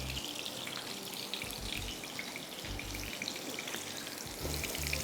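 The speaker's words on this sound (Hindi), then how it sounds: "तेल में हमने इसको फ्राई कर दिया है" Chullu kabab patties of beef mince with garlic, ginger, onion and green chillies frying in hot oil in a pan, a steady crackling sizzle with low bubbling underneath, close and continuous with no voices.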